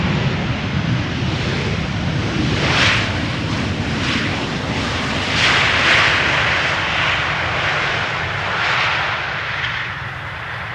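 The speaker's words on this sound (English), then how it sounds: "With a little bit of reversers being applied there." KLM airliner landing at Amsterdam Schiphol on arrival from Paris with thrust reversers deployed, a loud, sustained broadband engine roar that swells and surges in waves across the whole stretch.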